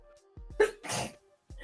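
A single sharp sneeze from a person with a common cold, with a short breathy lead-in, close and loud, followed by a brief noisy exhale.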